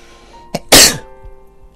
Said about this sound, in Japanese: あ、くしゃみが出そうだ。